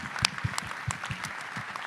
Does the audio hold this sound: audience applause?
yes